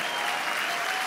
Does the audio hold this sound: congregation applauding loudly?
yes